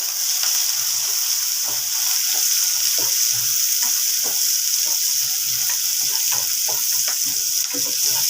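Onions fry in a pan until golden for urundai kulambu, a steady bright hiss of sizzling oil with light scattered crackles and occasional stirring taps, close and continuous, no voices.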